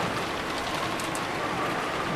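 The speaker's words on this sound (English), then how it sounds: "it was very quiet, filled only with the sound of the rain" Steady rain ambience from the Umineko visual novel game, a dense, even hiss of rainfall with faint scattered drop patter and no voices.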